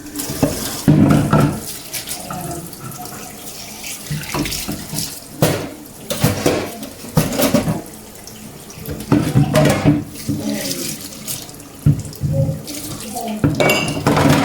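Pots, dishes and cutlery clatter and clink in a sink under running tap water, with loud irregular bursts of scrubbing and knocking close by.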